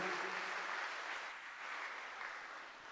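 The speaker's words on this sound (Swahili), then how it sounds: "Pigie Bwana makofi mengi ya shangwe, haleluya." A church congregation at a Swahili service claps in praise, a dense, fairly soft wash of many hands that eases slightly partway through, with no one speaking over it.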